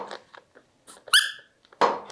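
Two sharp, high-pitched rubber squeaks from a dog toy, close and loud, separated by quieter rustling and small thumps.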